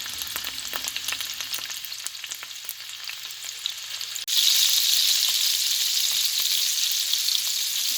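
Chicken pieces frying in a hot pan for a Filipino chicken afritada, a steady sizzle that jumps sharply louder midway and stays bright and hissing, with no voices.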